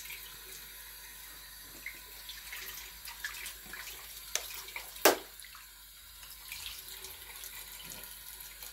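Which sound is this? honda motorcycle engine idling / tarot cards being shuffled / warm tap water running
warm tap water running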